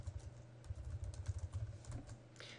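Quick, soft keystrokes on a computer keyboard in a quiet room, a steady rapid patter of light clicks.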